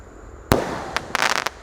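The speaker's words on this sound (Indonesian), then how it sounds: "10 shot berhasil menyala." A 10-shot roman candle firework fires a quick series of loud, close bangs, one sharp report followed by a ragged burst of several rapid shots.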